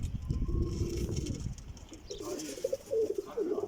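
Pigeons in a loft, some flying birds and some young, giving soft low cooing calls close by, with a few brief higher chirps and rustles mixed in.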